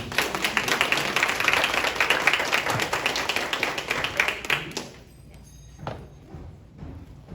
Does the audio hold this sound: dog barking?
no